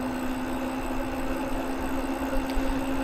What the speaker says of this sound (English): The motor's chugging along there. It's pretty quiet as well.